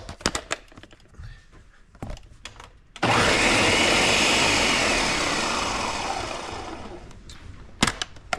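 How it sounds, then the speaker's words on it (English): A kitchen blender purees almond sauce with bread for a Spanish braised pork belly dish, starting with a sudden loud whirring roar that holds for about five seconds before it stops, with clattering and handling sounds before and after. "I've transferred the sauce into the blender. Now we're going to add the bread, and then we're going to puree this."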